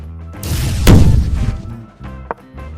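A sci-fi laser explosion effect in a chess meme: a rising whoosh leads into a loud booming blast with crackling debris that tails off, followed by a smaller sharp hit, with no talking.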